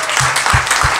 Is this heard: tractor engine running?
no